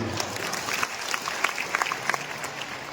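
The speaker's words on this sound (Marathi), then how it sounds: "प्रस्थानाच्या व्यासपीठावरील बसलेले सर्व अतिथी महानुभाव यांचे सुद्धा आपण टाळ्या वाजवून स्वागत करूया." Audience at a spiritual devotees' welcome gathering in Umred applauding the guests on stage, with moderate crowd clapping and a few sharper individual claps standing out.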